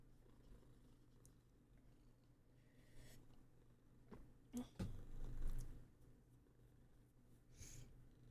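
A cat purrs softly and close at a low level, with a few louder snorts or breathing bursts in the middle and no speech.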